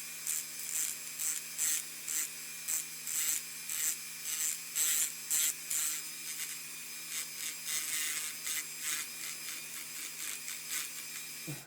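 Rhythmic scraping of sanding and filing on a donor truck part, short strokes repeated steadily and close by, with no talking.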